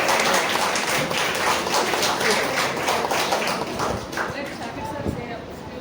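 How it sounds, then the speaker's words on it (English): Audience applause at a school felicitation ceremony honouring a teacher, a dense steady patter of many hands clapping that fades slightly toward the end, with voices mixed in underneath. "Please have a big round of applause."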